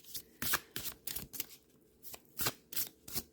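Oracle cards shuffled by hand in a quick run of crisp riffling bursts, several distinct flurries close up with brief pauses between, no speech.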